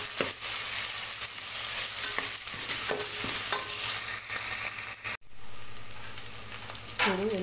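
A spoon stirs cucumber dal curry in a pan with steady scraping and soft sizzling close by, briefly cut off partway through, and no one talks.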